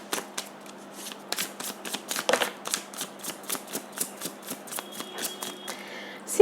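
Tarot cards are shuffled by hand in a rapid series of crisp riffling bursts, close and clear against a quiet room, with short pauses between bursts and no talking.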